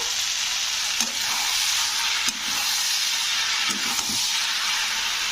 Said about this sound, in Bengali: দেখো আমার টমেটোগুলো কি সুন্দরভাবে পেঁয়াজের সঙ্গে ভেজে গেছে